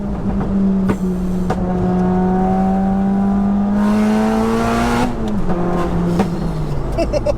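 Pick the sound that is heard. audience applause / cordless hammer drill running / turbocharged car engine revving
turbocharged car engine revving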